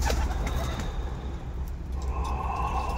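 Armenian pigeons of the Oktemberyan type coo softly in a loft in Voronezh, low steady cooing with faint chirps and occasional wing rustles over a constant background hum.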